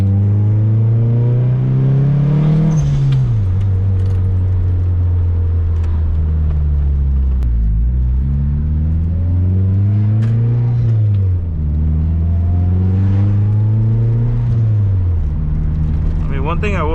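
Engine note of a Mitsubishi Eclipse (DSM) heard from inside while cruising, revving up and falling back through gear changes in repeated rising sweeps, loud and close, with someone talking over it.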